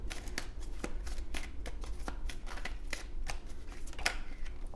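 Tarot cards shuffle close by in a brisk series of riffling flicks and soft snaps over a low room hum.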